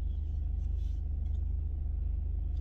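Steady low engine rumble and road noise from inside a moving car, a continuous even drone with faint rustling and no clear speech.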